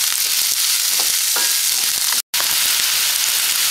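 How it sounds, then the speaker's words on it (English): Chopped onion and spring onion fry in a pan with a steady, close, bright sizzle that runs continuously, interrupted only by a brief cut of silence. "Add onion, spring onion, and fry for 1 minute."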